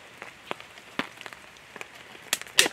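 Rain dripping onto a camping hammock tarp at a woodland campsite, with sparse, scattered drops tapping close by, a few louder splats near the end.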